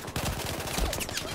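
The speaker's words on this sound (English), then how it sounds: "I shot the corner of the box there" Rapid automatic gunfire in the video game Battlefield 4 rattles in a quick, dense burst of repeated shots at moderate loudness with no voices.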